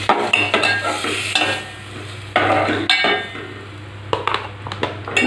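Chicken frying in a handi, loud, close stirring and scraping of a spoon against the pot in bursts, with sizzling underneath and a few metallic clinks, no talk.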